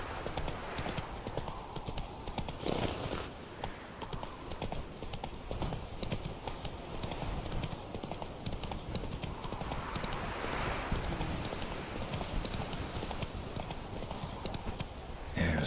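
A horse gallops through The Witcher 3 with steady rhythmic hoofbeats clopping throughout, joined by a brief whinny and a short spoken line, all over a constant ambient wash.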